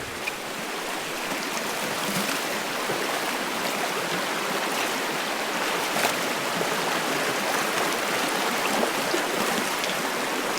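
A rushing mountain creek in the Great Smoky Mountains runs loud and steady at close range, a continuous broadband wash of flowing water with no talk over it.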